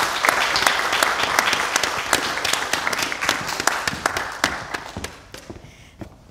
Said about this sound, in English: Would you join me in one more round of applause?